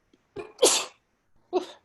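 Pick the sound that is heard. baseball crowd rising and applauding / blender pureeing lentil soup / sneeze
sneeze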